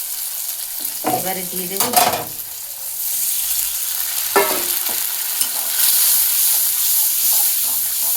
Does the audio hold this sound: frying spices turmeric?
yes